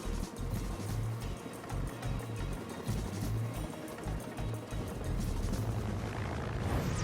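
A UH-1 Huey military helicopter's rhythmic thumping rotor chops steadily beneath a broad engine roar, sounding fairly close and continuous throughout.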